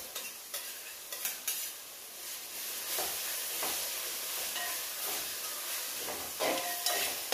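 Ginger, garlic and green chilli fry in a pan of softening onion, giving a moderate continuous sizzle with intermittent stirring scrapes and a few soft utensil taps.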